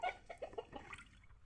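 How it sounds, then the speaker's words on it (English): A house chicken clucks close by in a short series of soft, quick clucks, fairly quiet with no talk over it. "Chicken, my house chicken, my house chicken."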